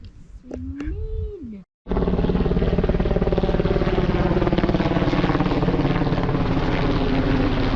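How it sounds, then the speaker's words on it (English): A Coast Guard helicopter passes over Helvellyn in the Lake District, its steady rotor thudding loud and close, drowning everything, after a brief stretch of wind and whistling. "Coast Guard helicopter."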